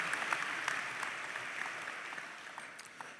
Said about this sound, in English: I think we should applaud ourselves for that, so give it up.